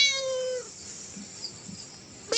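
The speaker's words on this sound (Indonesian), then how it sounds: "Si kucing Gunung Kelut via Lahar Pang." A cat on a Mount Kelud hiking trail gives a single clear, drawn-out meow close by, followed by quiet ambience and faint small sounds.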